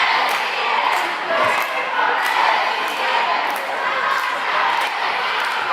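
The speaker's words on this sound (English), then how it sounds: "Both crowds getting into it a little bit here at the timeout break." Fans on both sides of a high school boys basketball game cheer during a timeout, a continuous crowd roar punctuated by regular sharp claps or thumps, with a voice talking over it.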